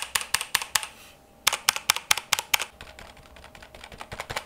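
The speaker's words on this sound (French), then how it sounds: "un clavier mécanique sera toujours plus bruyant qu'un clavier à membrane" A mechanical computer keyboard is typed on in close, sharp clacks, first in a quick burst, then a brief pause, then another run of rapid keystrokes tapering into lighter taps.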